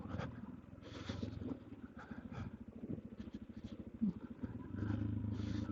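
A Suzuki DRZ dirt bike engine runs on an off-road gravel ride, a steady, fairly faint rhythmic thumping throughout the short stretch, with no talk.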